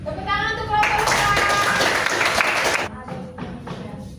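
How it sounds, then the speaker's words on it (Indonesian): A classroom of students claps for a student group that has just presented, a dense burst of about two seconds between stretches of talk. "Tepuk tangan untuk kelompok Bekas."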